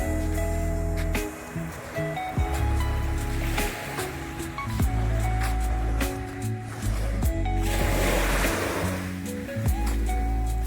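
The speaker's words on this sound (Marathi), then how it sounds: "फक्त समुद्राच्या लाटांचा आवाज येतोय" Sea waves washing ashore at a quiet morning beach in Daman, a steady broadband surf wash with repeated surges swelling and receding, close and continuous with no voices.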